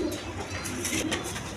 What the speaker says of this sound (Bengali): দেখেন ছটপটা কবুতর